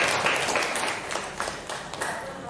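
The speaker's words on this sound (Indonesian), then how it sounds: "beri tepuk tangan untuk Bu Sunarsi." Applause for a presenter at an educational workshop on writing test questions, a room of people clapping steadily and fairly close for a couple of seconds, with faint talk beneath.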